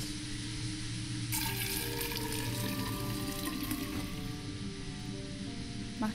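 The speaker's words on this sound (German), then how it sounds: "Mach den Wasser wieder zu, dieses Wasserverschwendung." Steady rush of tap water running in the Fran Bow video game, a continuous broadband hiss with game music tones layered over it, loud and close throughout.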